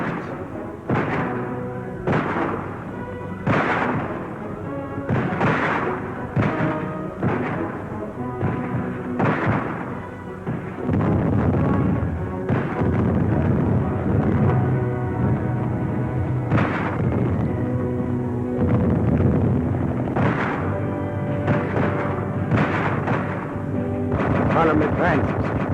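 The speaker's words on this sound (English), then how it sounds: "Cannons thunder" Cannon artillery fire in the Spanish Civil War thunders in repeated heavy booming blasts, some spaced apart and others crowding together, with a voice heard at times.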